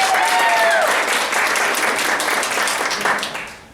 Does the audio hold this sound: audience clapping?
yes